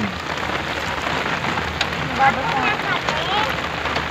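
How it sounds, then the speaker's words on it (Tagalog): Dense, steady hiss of heavy typhoon rain pouring down on a surface in Baguio City, Philippines, continuous throughout with faint voices underneath. "Wow, ang lakas ng ulan."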